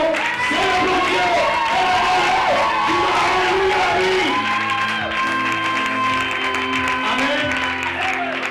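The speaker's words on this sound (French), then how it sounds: "Alors célébrons ce Dieu par une puissante acclamation." A church congregation lifts a loud, sustained acclamation, a dense crowd of voices cheering, shouting and clapping together close by without a break.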